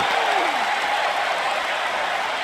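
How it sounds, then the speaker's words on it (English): Dense, steady crowd noise fills a WWE 2K24 wrestling arena, a broad wash of cheering and applause with no voices standing out, loud and constant throughout. "Taking a moment to get pumped off of this crowd's incredible energy."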